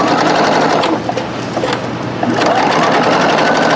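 Sewing machine top stitching an upcycled denim bucket hat, a loud, steady whirring hum running almost continuously with a short slowdown midway before picking back up.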